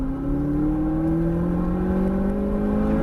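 An exotic car on a race track runs at full throttle, its engine whir climbing steadily in pitch as it accelerates, loud and continuous without a break.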